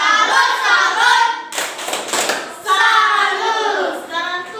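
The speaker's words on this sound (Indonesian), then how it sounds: "Tepuk salut kalau begitu untuk kelompoknya Uno" A classroom group performs a rhythmic tepuk salut cheer, sharp bursts of hand claps set between loud chanting voices that carry the beat, close and energetic.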